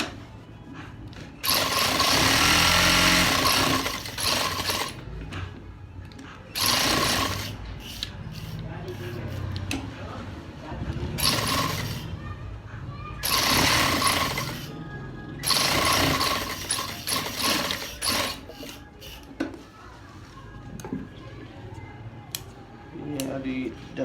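Sewing machine double-stitching the cuff of a gents kameez in repeated bursts, a fast loud whirring chatter that starts and stops, with a voice talking in the pauses.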